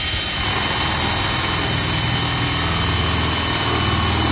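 Power drill boring into pallet wood held in a homemade jig, a loud, continuous whirring motor roar with a broad hiss that holds steady and close without pause.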